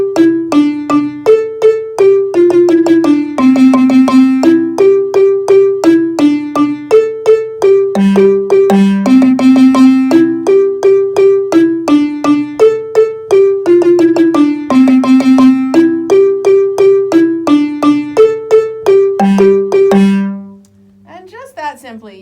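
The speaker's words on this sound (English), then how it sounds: "Those 4 rounds together are what we call the Shamwari break," An ensemble plays the Shamwari break in unison, four rounds of a bright, repeating melodic line with crisp struck notes stepping up and down in a steady rhythm, loud and close, ending with a short ringing fade.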